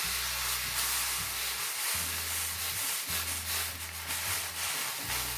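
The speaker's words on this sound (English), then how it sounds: "This is still wet enough for me to create steam over here." A hot clothes iron pressed down onto wet wood veneer on an antique chest gives a steady steamy hiss and rubbing scrape, with low humming bursts that stop and restart a few times, close and fairly loud, with no talking.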